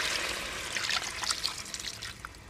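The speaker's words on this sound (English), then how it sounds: "We're gonna add more water" Water poured into a cooking pot of Haitian goat and moringa bouillon, a steady splashing trickle running throughout at moderate loudness, with no talk over it.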